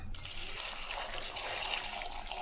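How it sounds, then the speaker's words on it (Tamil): Water poured into a pot of chopped brinjal and potato with turmeric, a steady splashing pour filling the vessel for a couple of seconds, fairly quiet and close, with no talking over it. "இந்த காய்ங்க முழுகிற அளவுக்கு தண்ணி சேர்த்துக்கலாம்"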